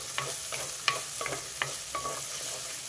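Onions softening in a pan for a gongura and soya chunk curry, a soft steady sizzle broken by several sharp scrapes of a spoon stirring at a slow, uneven pace.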